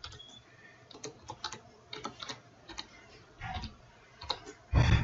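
Keys clatter on a computer keyboard as a search term is typed, a quick irregular run of close, light clicks in bursts, ending in a louder, heavier knock.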